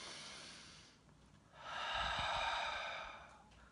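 A deep, slow breath taken in meditation: a soft inhale, a brief pause, then a long, full exhale of airy breathing, close and quiet with no talk.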